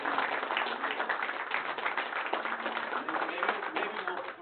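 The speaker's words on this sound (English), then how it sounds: "We need to give Ken a round of applause" A small room of colleagues at a user group meeting claps for Ken, a close, busy patter of hands, with voices faintly mixed in underneath.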